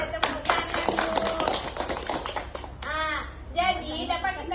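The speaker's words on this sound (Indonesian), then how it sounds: "tepuk tangan Bu" Group of participants clapping hands during an entrepreneurship workshop session, a short burst of mixed claps overlapping with chatter and voices in the room.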